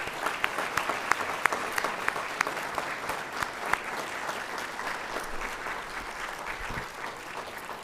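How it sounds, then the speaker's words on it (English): Dinner guests at a graduate school alumni society event give a sustained round of applause for outstanding scholars, a steady crackle of many hands clapping throughout, moderately loud in a large room. "Please join me in a final round of applause to congratulate these outstanding scholars."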